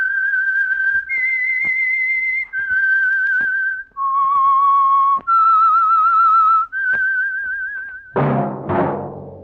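A melodic whistled theme tune for the classic radio suspense show The Whistler, sustained, wavering notes played close and clear, each held about a second, ending with a brighter burst of other sound.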